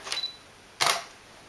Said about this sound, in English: first I'm gonna take a normal picture in normal mode of a shutter speed of 250